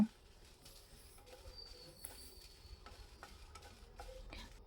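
Byadgi dry red chillies dry-roasting in a pan, quiet scraping and rustling as they are stirred in irregular strokes, faint light crackle beneath, close and soft.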